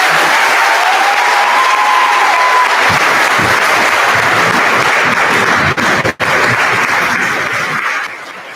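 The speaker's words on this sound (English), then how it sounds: "We are going to give our final round of applause today for Coach Ruggles and his 21 years." Sustained applause from an audience at a school fall athletic awards dinner, honoring a coach's 21 years, steady and dense for several seconds before tapering off at the end.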